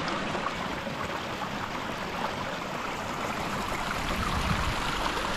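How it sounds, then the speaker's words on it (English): A hill stream runs steadily on a trail in Bennachie, giving a continuous broad rushing and babbling wash of water, close and even throughout with no voices. "who doesn't love the sound of running water when you're in the hills?"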